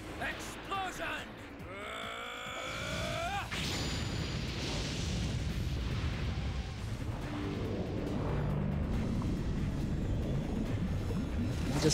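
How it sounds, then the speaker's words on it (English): In the video game The Legend of Dragoon, explosions boom and rumble. Rising synthetic whooshes come first, then a sustained, noisy blast that lingers. Someone talks over the game sounds. "I'm just gonna make these things explode."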